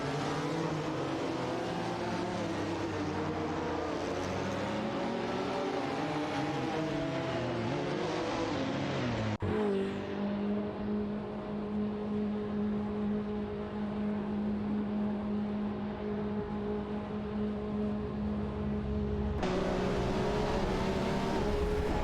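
Race cars in a racing video game, among them a Lamborghini Diablo SV and a Mercedes-Benz GTO KTR, drone loudly with layered engine tones that rise and fall, then settle into a steady high whine after an abrupt change of view.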